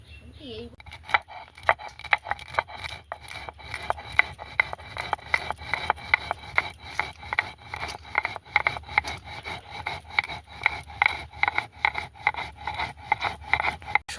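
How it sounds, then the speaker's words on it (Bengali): Spices such as black pepper and cumin being hand-ground on a grinding stone in a village kitchen for chow mein, a steady rhythmic scraping and rubbing, close and continuous with occasional louder strokes. "ওদিকে মশলাটা বাটুক"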